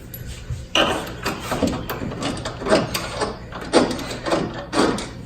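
Impact wrench driving wheel bolts home on a dirt track BMW, a series of short buzzing rattling bursts with pauses in between, close and fairly loud.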